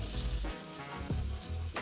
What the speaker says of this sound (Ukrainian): І смажимо з двох сторін по 30 секунд